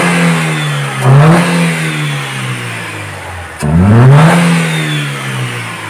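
A freshly rebuilt Chevrolet Celta engine idling, then revved twice in short blips that rise and fall back to a steady idle, loud and close.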